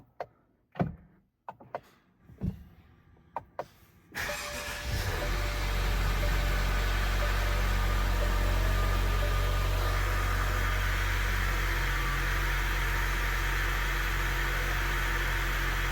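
A few clicks and short bursts, then a Mercedes-Benz GLC 300 engine starts after an oil change and settles into a steady, loud idle that hums on to the end.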